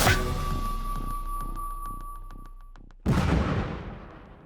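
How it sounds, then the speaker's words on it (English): An avalancher gas-powered avalanche control gun fires on a snowy mountain slope, one sharp loud blast booming after a quiet stretch and echoing away, with no voices heard. "an avalancher is getting ready to shoot"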